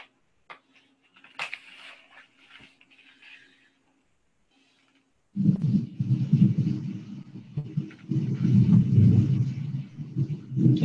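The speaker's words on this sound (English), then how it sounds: "The noise is thunder, so I say you can just mute me if you'd like." Thunder rumbling during an online video call in August, a deep sustained roll that swells in the second half and stays loud, with faint sounds before it.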